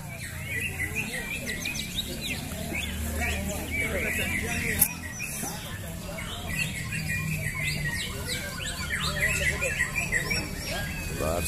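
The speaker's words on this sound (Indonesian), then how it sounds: "dengarkan Murai Batu" White-rumped shama (murai batu) singing at a songbird contest, bright chirps and whistled phrases repeating over a noisy crowd, with voices talking throughout and a steady hum beneath.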